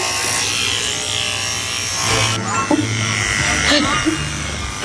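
Electric hair clippers buzz in a steady, continuous drone while cutting hair, running under near, ongoing conversation.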